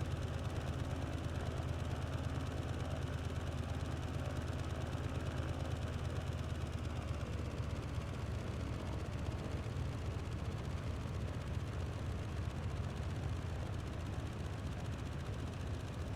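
A Junkers F13 in Microsoft Flight Simulator comes in to land at idle power, its engine a steady low drone that holds throughout with a faint rhythmic pulse, softening slightly toward the end.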